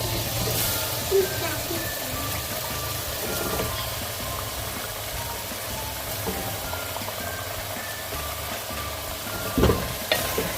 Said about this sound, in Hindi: अब इसको मैंने इतना यकजान करना है कि ये सारा मसाला आलूओं के साथ चिमट जाए